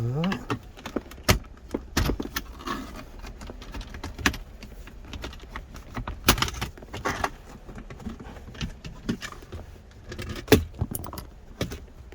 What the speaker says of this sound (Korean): 변속 레버 커버 빼겠습니다.